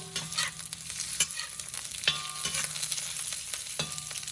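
Thinly sliced beef coated in cornstarch fries in a pan with a bright, steady sizzle. A few sharp stirring scrapes recur about once a second, close and without talk.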